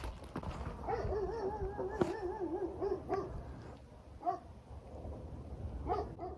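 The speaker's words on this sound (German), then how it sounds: "der Hund ist jedenfalls noch da" A dog barks in bursts, a harmonic yapping voice repeated several times at moderate distance, over a background of rumbling thunder and rain along a hiking route in Turkey.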